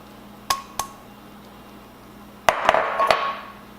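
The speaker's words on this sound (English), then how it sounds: "I'm going to use my cast iron skillet. So I'm going to put in my vegetables." Vegetables dropping into a cast iron skillet: two sharp clinks, then a louder cluster of clattering, scraping hits, all close and with no talk.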